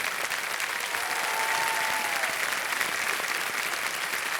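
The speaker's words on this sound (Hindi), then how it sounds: "तालियां बजते रहें इनके लिए।" Studio audience on a TV quiz show applauding steadily, a dense, even wash of many hands clapping that holds at the same level throughout, with a faint brief voice partway through.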